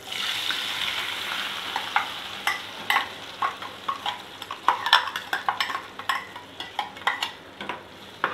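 Onion-tomato paste frying in hot oil and butter for kadai paneer, with a steady close sizzle and repeated sharp clacks of a spoon stirring against the pan throughout.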